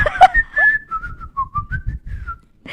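A person whistles a short, wandering melody up close, a string of clear sustained notes and slides, with a brief noise at the very end.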